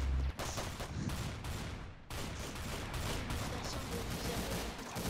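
Gunfire from a Roblox first-person shooter rattles in dense, rapid bursts, sustained and fairly loud throughout with a brief break partway through.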